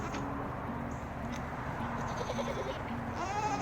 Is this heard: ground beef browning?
no